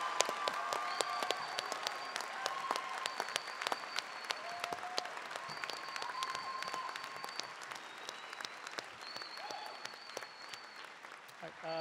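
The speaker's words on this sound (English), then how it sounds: "Please join me in a round of applause for our outstanding faculty members and students." Audience applause fills a baccalaureate convocation hall, a dense, sustained clapping from a large crowd that continues steadily without a break, with faint voices and a few sharper claps standing out.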